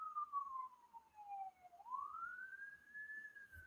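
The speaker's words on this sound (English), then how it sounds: "Got a siren going by." An emergency vehicle siren passes by, a single sustained wailing tone that sweeps down and then rises again, steady and moderately loud against quiet background noise, with no voices.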